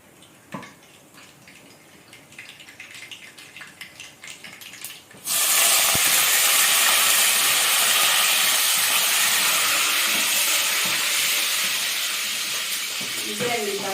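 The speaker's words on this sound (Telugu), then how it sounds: "పచ్చిమిరపకాయలు కూడా పెద్ద వేరే నూనెలోనే పడతాయి కాబట్టి తొందరగానే వేగిపోతాయి" After some quiet clatter and faint talking, a sudden loud hiss erupts and holds steady, a harsh sizzle of green chillies dropped into hot oil.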